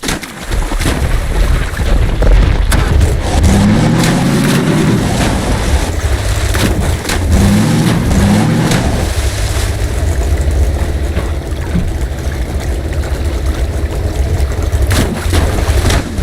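A car engine in Half-Life 2: Episode Two runs loud and rough throughout, a continuous heavy rumble with revving swells and rattling, up close and without speech.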